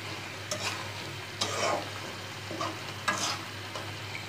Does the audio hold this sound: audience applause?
no